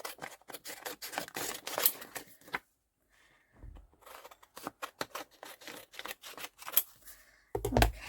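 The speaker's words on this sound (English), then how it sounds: "and then just cut around that pattern paper" Paper being cut with scissors around a pattern sheet for a vintage journal craft project: a run of close, crisp snips in quick bursts, a brief pause in the middle, then more cutting.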